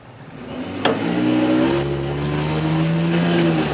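A golf cart strains to haul a boat up out of the water, its motor droning steadily and loudly with a sharp knock near the start and a rising whine later on.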